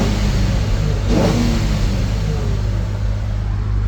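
A Nissan 350z engine revs up once around the middle of a loud, close engine drone, then settles back to a steady run.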